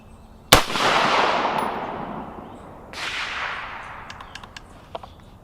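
A rifle shot from a JC Arms fixed-magazine AR cracks loudly at an outdoor range, and its long echo rolls away before a second shot rings out near the three-second mark. Faint clicks and small knocks come from nearby handling.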